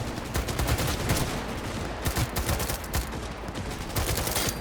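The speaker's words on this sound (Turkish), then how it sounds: "Kadına sıkıyorum ama pek etkili bir silah değil galiba bu ki pek bir şey yapmıyor." Rapid bursts of gunfire from the video game Cyberpunk 2077 crack out in clusters of sharp repeated shots, loud and close, with brief gaps between the volleys.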